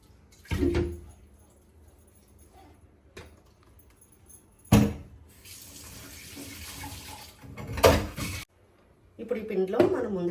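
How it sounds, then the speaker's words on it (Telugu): Tap water runs and splashes into a kitchen mixer jar being rinsed before making pesarattu batter, in several short bursts with pauses and a few clunks of the jar between them. "మిక్సీ కూడా కొంచెం కడిగేసుకుని వాటర్ పోసేసుకుందామండి."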